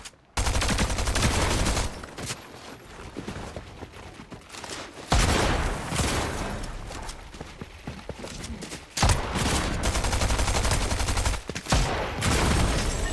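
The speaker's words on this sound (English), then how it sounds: "Where the fuck is this gunfire?" Rapid bursts of video game gunfire rattle in loud, dense volleys that come in waves across the whole stretch, with no voices over them.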